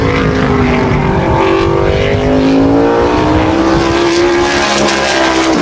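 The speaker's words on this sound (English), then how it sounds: "Here comes Kessler out of turn number 4. Looking to pick it up" A modified race car engine drones loud and steady on a qualifying lap at Wall Stadium, its pitch rising and bending as it comes off the final turn, with no voices over it.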